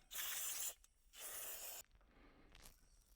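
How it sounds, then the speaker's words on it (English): Brake cleaner sprayed in two long hissing bursts onto a small pressure washer engine part during carburetor work, followed by a fainter, shorter spritz, close by with no talk. "Use our brake cleaner to clean it."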